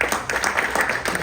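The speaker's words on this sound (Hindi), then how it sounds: "फिर उसके बाद टीम्स के लिए तालियां होनी चाहिए" Brief scattered applause for the teams at a cricket association's annual general meeting, a short patter of claps from a small indoor crowd.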